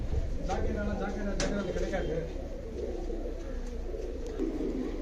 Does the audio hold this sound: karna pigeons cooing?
yes